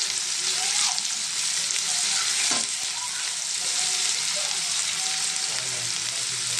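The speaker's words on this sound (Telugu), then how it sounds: "ఇప్పుడు ఉల్లిపాయలు వేద్దాం. కలుపుతున్నానండి." Onions fry in a pan where prawns were just cooked, a steady loud hiss of sizzling oil broken by scraping stirs of a spoon, close up with no speech.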